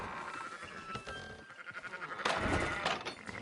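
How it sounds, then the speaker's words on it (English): Sheep bleat in Red Dead Redemption 2, several calls rising over a busy background of game ambience, with one louder burst near the end and no talking. "Fine sheep."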